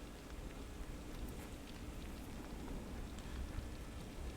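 Steady rain falls in Pure Farming 2018, a dense, even hiss of drops that holds unchanged throughout with no voices.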